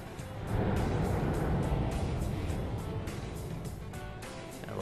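Race cars rumble together on the pace lap before a green flag, a steady dense engine drone close by with some motor noise swelling and fading as cars roll past.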